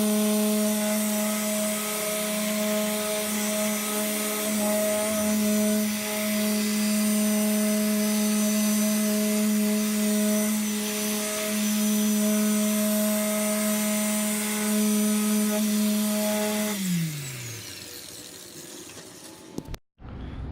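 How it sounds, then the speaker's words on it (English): A power polisher hums steadily on a car headlight, working off sanding marks, its steady tone running for about seventeen seconds before winding down and stopping. "So I'm just going to polish off this sanding marks"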